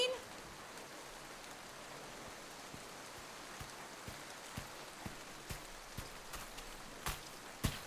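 Rain falling in a forest in an audio drama: a soft, steady hiss of rainfall with scattered louder drips and taps landing irregularly nearby, fairly faint overall.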